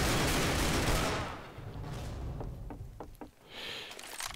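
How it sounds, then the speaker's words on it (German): Rapid burst of M4A4 automatic rifle fire in the first-person shooter CS:GO, loud and dense at the start, then thinning into a few sharp separate shots and clicks. "Eine M4A4. Maschinengewehr."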